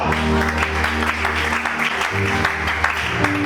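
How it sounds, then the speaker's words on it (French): A church congregation claps and applauds steadily throughout a service, the sustained applause loud and close, with a musical backing and crowd noise running beneath it. "Acclame Shada"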